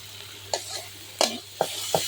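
Food being sautéed with potato and fish pieces in a pan for an aloo curry, with a low steady sizzle under four sharp scraping strokes of a spatula at uneven intervals, close by.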